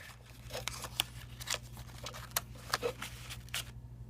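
The foil seal of a Peterson's Irish Flake pipe tobacco tin being peeled back: faint, crinkly scratching and small crackling tears in irregular bursts over a low steady hum, close up.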